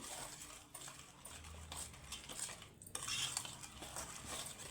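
Cake batter stirred in a bowl for a simple homemade sponge cake, a steady scraping and clinking of utensil against the bowl running close and continuous without speech.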